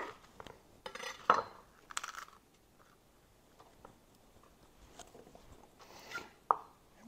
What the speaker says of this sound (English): We're going to do a coarse chop.